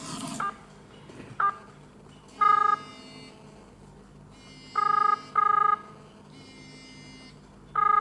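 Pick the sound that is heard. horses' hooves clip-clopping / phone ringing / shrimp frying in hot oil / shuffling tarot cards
phone ringing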